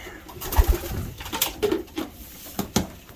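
Domestic racing pigeons coo and shuffle in a breeding loft during the breeding season, with soft low coos and wing or feather patter scattered over a few seconds close by.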